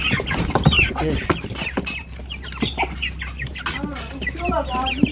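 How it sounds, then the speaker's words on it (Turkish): A hen clucks repeatedly amid high chirping peeps from chicks, close by, with scattered rustling and occasional voices in the background. "Ay anne tavuk geldi oraya geçti"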